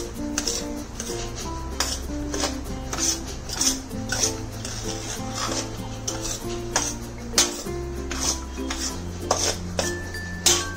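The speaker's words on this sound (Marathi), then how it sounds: "मग आता सगळं मिक्स करायचं" Raw mango pickle ingredients are stirred together with mustard seeds in oil, a spoon clinking and scraping against a metal pot in a steady rhythm, close and clear, with soft background music underneath.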